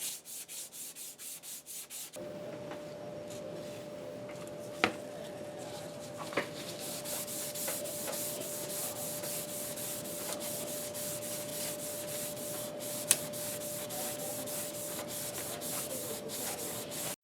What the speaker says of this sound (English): There's a couple of spots with burrs on it, so I grabbed some emery cloth.